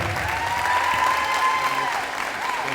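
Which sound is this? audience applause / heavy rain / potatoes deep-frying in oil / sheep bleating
audience applause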